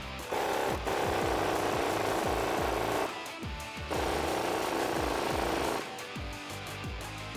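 An 18 mm socket on a powered tool loosens the nut on top of a strut during a ReadyLIFT suspension lift install on a 2019-2021 RAM 1500. Two long, loud, rattling hammering bursts run with a brief quieter pause between them, then a shorter burst follows.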